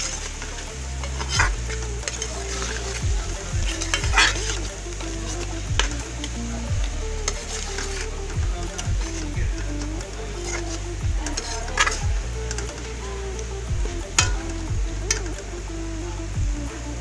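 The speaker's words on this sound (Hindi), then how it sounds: "मसाला हमारा फ्राई हो गया।" Spice masala fries in a pan for aloo baingan sabzi, a steady close sizzle punctuated by repeated scraping stirs and light clicks of a spoon against the pan.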